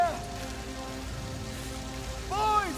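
Rain falls steadily throughout a dramatic TV series scene, a soft continuous patter with faint tonal sounds and brief voice-like cries at the start and end.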